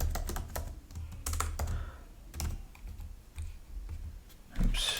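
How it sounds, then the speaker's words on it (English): Rapid keyboard typing on a computer during a Kotlin coding session, bursts of close key clicks in uneven clusters with brief pauses between them, no voices. "If I could just type."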